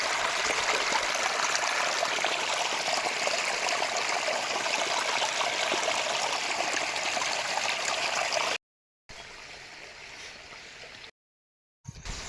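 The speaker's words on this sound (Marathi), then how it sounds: "तर यामध्ये पाहू शकता तुम्ही कसं पाणी वाहत आहे." Water rushing over a check dam amid green monsoon countryside, a loud continuous stream roar with gurgling, broken by brief cuts near the end.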